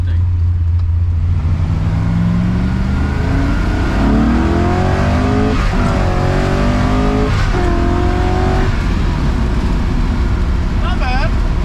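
A 1966 Corvette with a 427 big block engine pulls hard through the gears of an old four-speed, its loud, close roar climbing and dropping with each shift while people talk over it.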